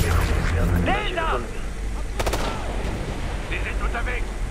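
Gunfire in the video game Ghost Recon Future Soldier, with sharp shots cracking over constant battlefield noise and game voices, loud and close.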